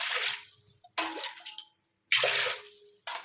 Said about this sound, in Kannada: ಇದೇ ಗ್ಲಾಸ್ಲೆ ಒಂದು 12 ಗ್ಲಾಸ್ ನೀರು ಈ ಬೋಣಿಗೆ ಹಾಕೊಳ್ತೇನೆ ರೀ